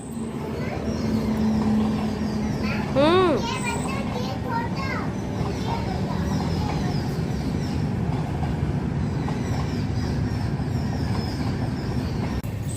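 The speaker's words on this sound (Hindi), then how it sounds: "मैंने सोचा पहले ट्रेन को निकल जाने दूँ, फिर मैं आपसे बात करूँ।" A train rolls past close by, a steady broadband rumble filling the whole stretch, with a few chirps and what sound like children's voices over it.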